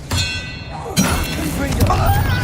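The Expelliarmus disarming spell is cast during Hogwarts Legacy combat on hard difficulty, with a dull thud at the start and a bright clanging burst about a second later over a steady, loud wash of game noise.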